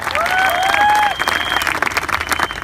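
A crowd bursts into sustained applause for Mr. and Mrs. Saxena at an Indian business event, steady dense clapping that eases off slightly, with whistles and faint cheering layered through.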